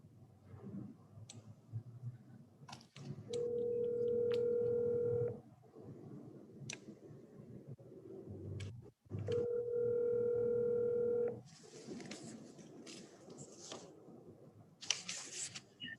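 A desk telephone on speakerphone in a courtroom calls a cell phone, giving two long steady ringback tones separated by a pause, with clicks, shuffling and faint room noise around them.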